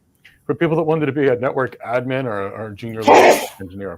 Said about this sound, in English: It's okay, we all sneeze.